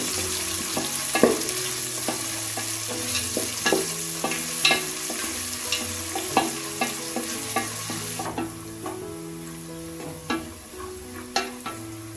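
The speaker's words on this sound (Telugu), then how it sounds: "ఒక మీడియం సైజు ఆనియన్స్ని స్లైస్గా ఇలా కట్ చేసి వేసుకోవాలి లైట్ అండ్ బ్రౌన్ కలర్ వచ్చేంత వరకు ఫ్రై చేసుకోవాలి" Sliced medium-size onions fry for veg pulao in a pan, a soft continuous sizzle under frequent close clinks and scrapes of a spatula stirring at an uneven pace.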